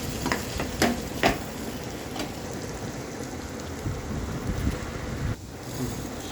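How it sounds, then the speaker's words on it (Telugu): Semolina and onion fry in a pan under repeated stirring, a soft crackling hiss with several sharp spoon taps and scrapes early on, close and moderately quiet, with no talking. "ఇప్పుడు ఇందులో 1 కప్పు రవ్వ పోసుకొని బాగా వేయించుకోవాలి."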